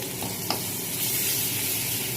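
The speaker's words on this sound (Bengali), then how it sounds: "পেঁয়াজ রসুন টমেটো কাঁচা লঙ্কা সব ভাজা ভাজা হয়ে গিয়েছে, এবার আদা বাটা দেব" Ginger paste frying in a pan with onion, garlic, tomato and green chilli, giving a steady close sizzle with one brief sharper spit, no voices.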